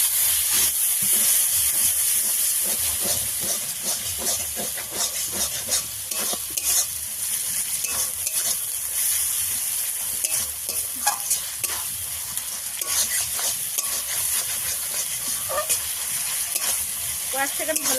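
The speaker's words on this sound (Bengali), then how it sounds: "কয়েক সেকেন্ড ভালো করে কষিয়ে নেব" Ground spice paste with cumin fries and is stirred in a pan for a country-style homemade chicken curry, a loud steady sizzle with scraping stirs throughout, close and continuous without talk.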